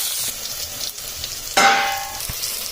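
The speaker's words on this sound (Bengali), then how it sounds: "এবার বেগুনটাকে এখানে ভালোভাবে লাল করে ভেজে নেওয়া হবে" Steady sizzling of eggplant frying in hot oil, with a brief louder hiss and a light clink of a utensil.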